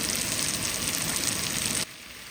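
Celery and mushrooms sautéing with chicken in a pan for chicken pot pie, a loud dense sizzle that cuts off abruptly near the end.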